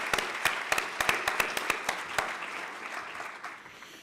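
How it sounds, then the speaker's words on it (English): Audience applause for conference speakers and panelists at a Women in Data Science event in Budapest, opening with sharp distinct claps that blend into a fuller round of clapping before tapering off. "Let's just clap them"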